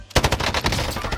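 Rapid automatic gunfire in a first-person shooter video game: a loud, close burst of many fast shots rattling off in quick succession, with no voice over it.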